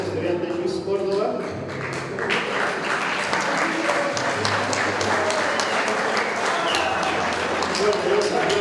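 Audience applauding at a graduation ceremony for a motorcycle and vehicle mechanics class, steady clapping throughout with a voice speaking over it.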